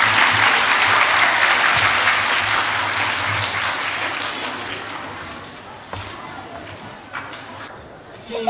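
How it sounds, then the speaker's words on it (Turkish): Dense audience applause fills a graduation ceremony hall as students are welcomed onto the stage to perform an Arabic hymn, loud and steady before slowly thinning toward the end, with some voices underneath. "güçlü alkışlarınızla sahneye davet ediyoruz"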